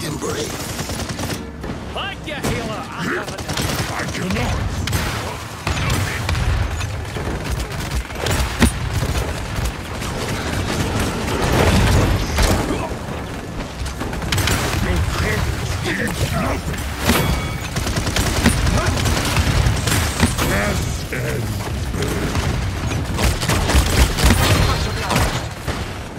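Gunfire in the shooter game Paladins comes as dense, continuous bursts of rapid shots and booms with mechanical clatter, loud throughout, with a voice talking over it.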